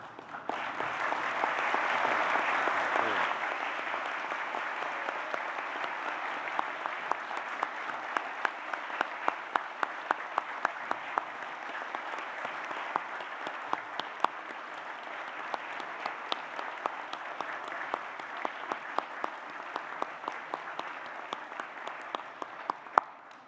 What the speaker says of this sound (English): join me and my colleagues in applauding the wonderful achievement of these graduates